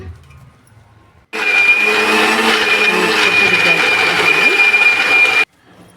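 A kitchen mixer grinder grinds soaked ingredients with coconut milk for a coconut and banana milkshake, running as a loud, steady whir with a high whine for about four seconds, with brief quiet before and after.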